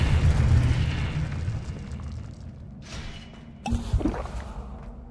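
A Confringo fire spell detonates in Hogwarts Legacy, a loud rumbling low boom that fades over a couple of seconds, followed by a second sharper blast with crackling debris near the end.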